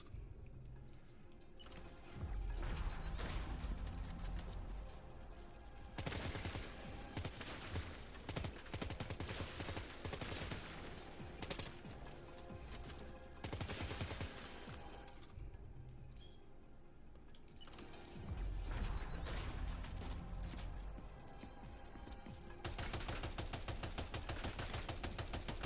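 Rapid gunfire with heavy recoil in the video game Death Stranding 2, bursts of loud shots alternating with short quieter gaps across the stretch.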